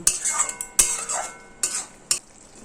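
Spices with ginger and garlic paste get mixed in a pan with fish roe, a spatula scraping and knocking the metal in four quick strokes over a light sizzle, close up.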